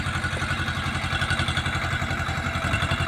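A tractor engine runs steadily in a chili and brinjal field, its low, chugging pulse close and continuous, with a rattling clatter over the beat and no voices.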